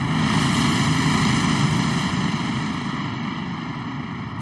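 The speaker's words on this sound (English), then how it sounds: "Got a heli incoming. Looks like a supply dropper." A helicopter approaches in the Call of Duty Modern Warfare 2 video game, a loud, steady rotor and engine drone that holds strong and even for the whole stretch, with no voices over it.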